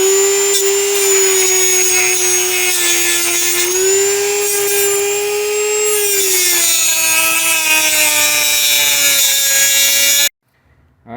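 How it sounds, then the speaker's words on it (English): A Dremel rotary tool cutting the heads off stripped stud bolts on a small engine gives a loud, steady high-pitched whine, dipping slightly in pitch under load before stopping abruptly near the end. "now we're going to take the Dremel and we're going to cut the heads off of these"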